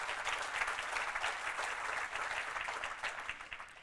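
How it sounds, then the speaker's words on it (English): A staff in-service day audience claps in a dense, sustained round of applause, fairly close and continuous for the whole stretch with no talking. "Give yourselves a round of applause."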